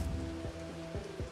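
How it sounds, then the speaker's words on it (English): Rain falling in the video game Bugsnax, a steady soft patter of drops on surfaces with faint musical tones underneath, close and continuous. "It's raining!"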